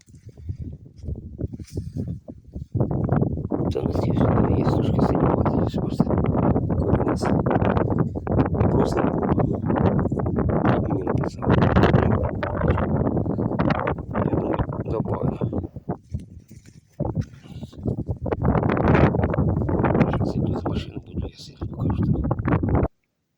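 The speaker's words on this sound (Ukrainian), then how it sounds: "заховався в машину, бо вітер задуває, нічого не чуть" Strong gusts of wind buffet the microphone in a soybean field, roaring and rumbling for most of the stretch, with brief lulls between bursts.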